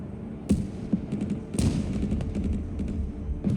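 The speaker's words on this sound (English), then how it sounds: "the artillery is gonna absolutely smoke that dude" Artillery strikes in the video game Broken Arrow during a push into a city: two sharp explosive blasts followed by scattered thuds and rumbling impacts, moderately loud against a low, continuous battle background.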